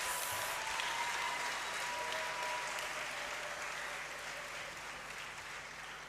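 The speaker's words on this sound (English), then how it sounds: "I think he deserves another big round of applause." Sustained audience applause fills a great hall during a university congregation ceremony, a dense even wash of clapping from many hands that holds steady and slowly eases off toward the end.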